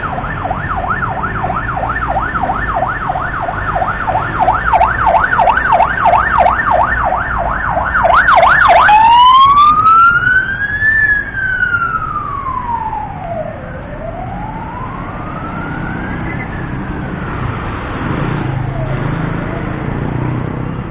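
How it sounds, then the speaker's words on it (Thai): An ambulance siren on a street in Georgetown, Penang, wailing in a steady rapid cycle, then switching to a slow rising and falling wail as it passes close and loud over road traffic noise. "รถพยาบาลครับ"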